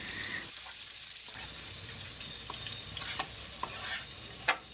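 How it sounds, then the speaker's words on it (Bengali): Chopped onions and spices for haleem sizzle and fry in hot oil, a steady close crackle with occasional stirring scrapes and clinks, no voices. "মশলাগুলো দেওয়ার সাথে সাথে এখন আমি পেঁয়াজ কুচি দিয়ে দিচ্ছি কারণ পেঁয়াজগুলো যখন আমি ভাজবো মশলাটা এমনিতেই ভাজা হয়ে যাবে"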